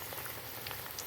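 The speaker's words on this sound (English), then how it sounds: "Wow, the oil is very hot. That's it, boiling." Hot oil boiling in a pan for frying mandazi, a faint, steady bubbling sizzle with small pops scattered throughout and no talking.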